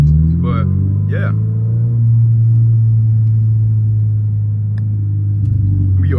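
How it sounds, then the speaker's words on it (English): Low, steady cabin drone inside a 2023 Toyota GR86 while driving, a loud, constant engine hum filling the interior, with brief speech at the start. "the cabin drone, it gets a little annoying"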